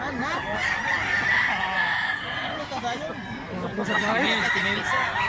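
Chickens cluck and a rooster crows repeatedly in a noisy outdoor setting, with people talking over the birds.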